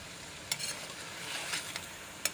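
Soft steady sizzle of chicken frying in a pan, faint and close, with a few sharp spatula clicks against the pan.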